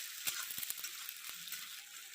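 Chopped onions fry in hot oil for a mutton curry, giving a steady, quiet sizzle with a few soft clicks of stirring, close by and without talk.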